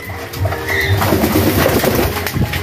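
Pigeons cooing while being fed battle mix: low, throaty coos rise and fall continuously and fairly loud and close, with a light rustle of birds moving, and no talking.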